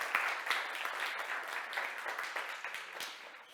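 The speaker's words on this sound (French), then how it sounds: "je vous demande de vous donner une belle main d'applaudissement" An audience claps at a panel discussion on the connected hospital of the future, a steady, moderately distant round of applause that holds for several seconds without fading.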